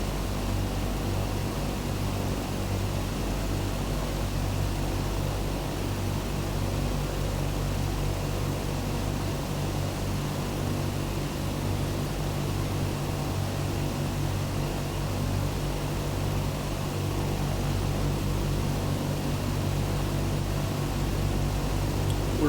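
Steady, even drone of a DC-6 airliner's piston engines in Microsoft Flight Simulator, painted as a B-17, running constant and unchanging throughout with no voices.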